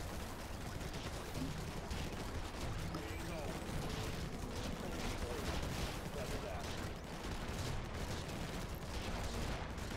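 Turret gunfire in the Infested Planet video game crackles as a dense, continuous barrage of rapid shots, fairly faint and steady throughout, with people talking over it.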